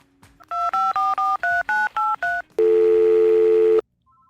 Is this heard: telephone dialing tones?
yes